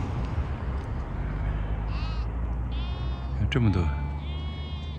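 Sheep bleating from inside a pen on open grazing land where yaks roam outside, several short wavering calls rising over steady wind noise while someone talks nearby.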